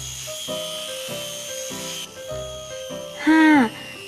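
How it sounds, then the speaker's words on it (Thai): A small power drill bores a hole in carved wood, whirring in short bursts, starting and stopping several times, close by and fairly quiet, ending with a higher-pitched whine. "สว่านเจาะรูข้างงวงเพื่อใส่งา"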